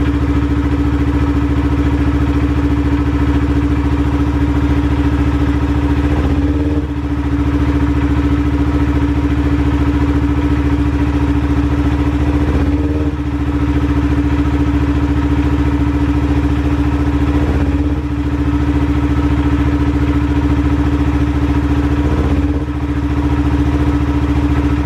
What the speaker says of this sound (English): I'm barely moving the throttle, and I'm already getting a response from the engine.